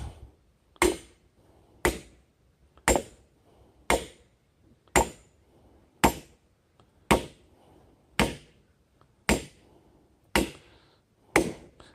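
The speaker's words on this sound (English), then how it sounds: "take a 16-pound sledgehammer and hammer this rebar down through here" A 16-pound sledgehammer drives metal rebar into the ground in steady, evenly spaced blows, about a dozen sharp impacts with short ringing decay, close and loud.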